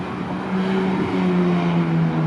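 A Porsche sports car roars nearby as it accelerates past on Rodeo Drive in Beverly Hills, the engine note climbing in pitch under a steady loud rush of road noise.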